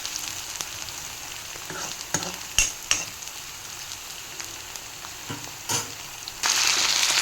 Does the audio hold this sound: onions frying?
yes